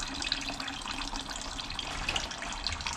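Antifreeze drains out of a Yamaha YZ250F dirt bike engine during a rebuild, a steady close trickle of liquid running without a break.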